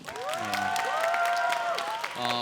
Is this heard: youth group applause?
yes